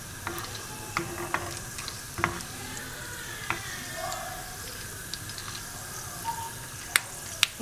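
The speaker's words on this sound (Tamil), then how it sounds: "இப்போ நல்லா பொரிய ஆரம்பிச்சிருச்சு." Cumin seeds and cashews frying in a pan of oil for Tamil ven pongal, giving a soft continuous sizzle with scattered sharp pops and crackles, close by and fairly quiet.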